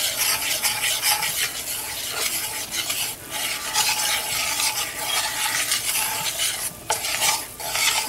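Roux for country gravy stirred in a hot pan with the burner switched off, a continuous close scraping and swishing with a soft sizzle underneath, fairly loud throughout.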